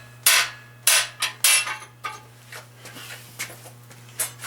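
A metal cam bearing is driven into a Chevy 350 engine block with a series of sharp metallic hammer blows, loud and close, striking in an uneven rhythm with quieter taps and clinks between.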